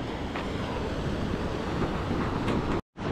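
Sea waves surging and splashing up over coastal rocks along the Paphos coastal path in Cyprus, a loud continuous roar of surf mixed with wind rumble, ending in a brief dropout.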